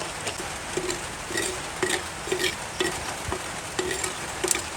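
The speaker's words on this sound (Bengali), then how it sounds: "হাঁড়ি গরম হয়ে গেছে এখন এতে সর্ষের তেল দিয়ে দিচ্ছি এবার এতে তেজপাতা দিয়ে দিচ্ছি ওটা জিরে দিয়ে দিচ্ছি সাদা জিরে" Bay leaf and white cumin sizzle in hot mustard oil in a heated clay pot, a soft steady crackle with brief repeated stirring scrapes, close and fairly quiet, with no talking.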